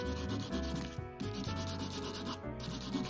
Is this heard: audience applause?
no